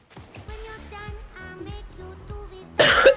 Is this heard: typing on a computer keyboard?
no